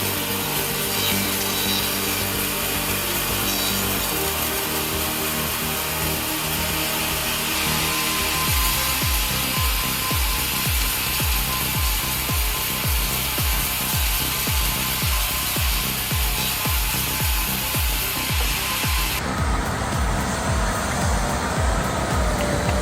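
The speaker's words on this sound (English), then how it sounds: "With high power motors and sharp saw blades, the chainsaw can operate continuously for long periods of time without encountering problems." A chainsaw with a high-power motor and sharp blade cuts through wood, a loud continuous engine drone carrying steady, rhythmic rasping strokes that shift in tone near the end.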